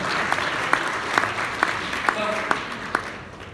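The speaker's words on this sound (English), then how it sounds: "Round of applause." An audience claps steadily, a dense patter of applause with a few sharper claps standing out, heard from a moderate distance.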